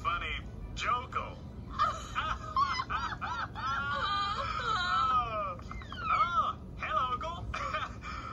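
Shrill, wavering screams and honking cries from a Dexter's Laboratory cartoon episode, 'Hamhocks & Armlocks', rise and fall almost continuously and fairly loudly, broken by short gaps.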